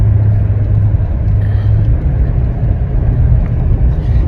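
A truck engine hauls a trailer of horse hay up a long driveway, a steady loud rumble with a low droning hum that holds throughout with no voices.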